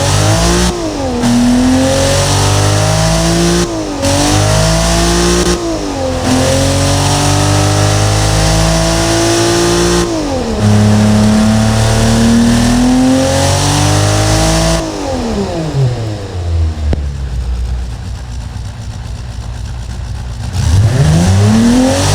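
Nissan S20 replica engine in the Automation game revving loudly and repeatedly, pitch climbing and dropping through several rev sweeps before a brief drop toward idle and a final rising rev.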